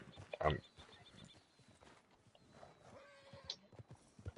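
Horse in a PS4 video game, a loud close whinny early on followed by scattered hoof clip-clops and game ambience, with a voice talking faintly beneath.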